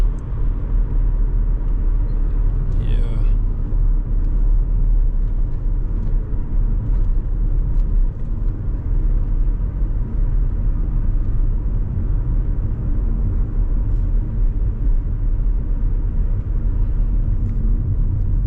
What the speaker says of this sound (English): I didn't have to press the brakes, so I just had to allow the engine to do the braking for me.